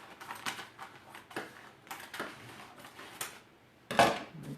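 Scissors or a craft knife trim the excess edge from a hand-painted leopard print winter door hanger, giving a run of soft snipping and scraping strokes, close and fairly quiet, ending in one sharper, louder cut.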